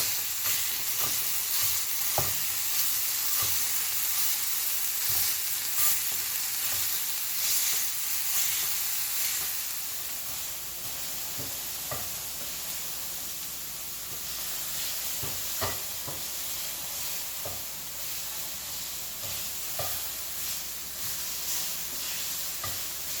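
Ground hamburger meat frying in a pan with a constant hiss and sizzle, broken by scattered sharp taps as a utensil chops the meat apart, close and alone with no talking.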